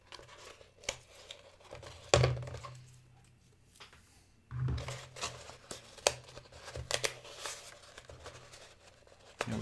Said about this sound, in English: So I can just gently pull off the masking tape here.